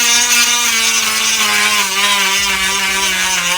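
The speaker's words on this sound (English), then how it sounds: "you get the Dremel, you lower it down" A Dremel rotary tool cuts while installing door sills on a Toyota MR2 SW20. It gives a loud, close, high-pitched whine with steady tones that sag slightly as the bit bites in.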